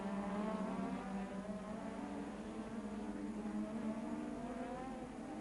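Formula One race cars lapping the Hungaroring give a steady, continuous engine whine with a droning tone throughout, fairly distant and even in level, with no speech.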